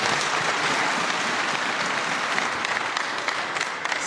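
An audience at a gospel album launch event applauds steadily, a dense wash of clapping that fills the whole stretch and tapers slightly toward the end.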